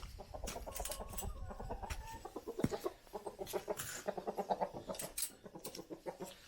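Chickens kept inside a stable, clucking in quick repeated bursts at close range, with a few sharper squawks breaking through the steady chatter of the flock.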